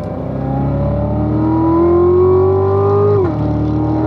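Car on a race track at a performance driving school accelerating hard down the straightaway, a steady rising engine drone that climbs in pitch for about three seconds, then drops abruptly as the driver lifts off.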